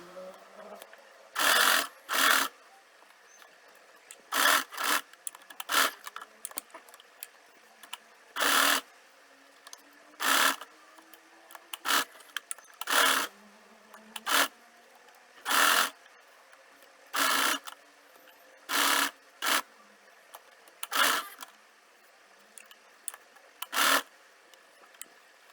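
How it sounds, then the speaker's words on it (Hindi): Domestic sewing machine stitching piping onto a high neckline, sounding as a series of short, evenly spaced whirring bursts with quiet handling noises and faint clicks between them, close and fairly soft. "अब फुट फॉलो करते हुए इसकी सिलाई लगाएंगे"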